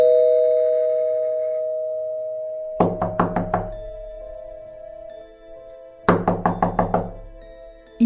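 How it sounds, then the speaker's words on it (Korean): An electronic doorbell-style chime sounds in a horror story, following a steady held tone: two quick bursts of five rapid, close, bright rings each, separated by a few seconds of lingering hum. "이번에는 누군가 초인종을 누르는 소리가 들렸습니다"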